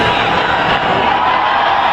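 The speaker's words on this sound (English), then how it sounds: "And on cue, the crowd starts to erupt." A packed football stadium crowd at a Tennessee Titans home game against the New York Giants roars in a loud, dense, continuous wash of cheering with no break.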